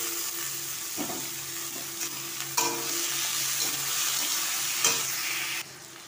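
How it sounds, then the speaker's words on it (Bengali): Chopped tomato and green chilli frying in a pan with spices, a continuous sizzle broken by a few scraping stirs of a spoon against the pan. "তো এর মধ্যে এখন আমি টমেটো আর কাঁচা লঙ্কাটাও অ্যাড করে দিলাম, দিয়ে একটুখানি ভালো করে নাড়াচাড়া করে নেবো কিছুক্ষণ।"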